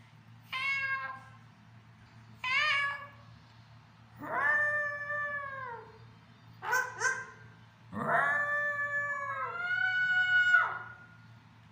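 A parrot imitates a cat, giving six drawn-out meows one after another with short pauses between them, clear and nearby over a low background hum.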